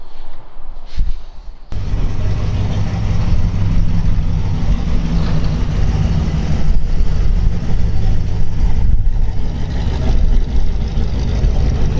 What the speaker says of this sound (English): Exit over here on the exhaust.